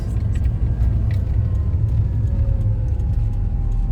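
A car engine revving as the driver presses the gas pedal, heard as a loud, close, steady low rumble that holds throughout with no talking.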